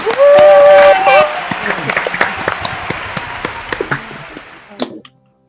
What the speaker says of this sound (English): So unmute yourselves and applaud.